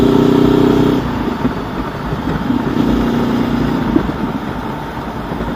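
A 2019 Honda CB500X fitted with a Mivv aftermarket exhaust rides along, its loud, steady engine drone shifting in pitch as the rider changes throttle, close and continuous throughout with no talking.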